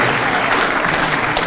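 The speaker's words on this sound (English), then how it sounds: "please give yourselves a round of applause" A gathered audience at an awards-style celebration claps in a brief, dense burst of steady applause, close and loud, with no talking over it.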